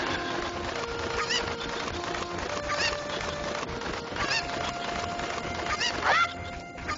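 Chicken squawks from a thrown cucco in the Zelda Ocarina of Time video game, with several short shrill cries over steady game background noise, the loudest one near the end.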